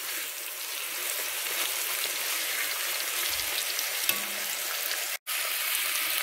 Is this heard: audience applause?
no